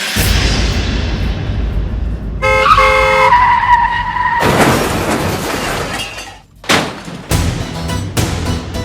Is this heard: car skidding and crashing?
yes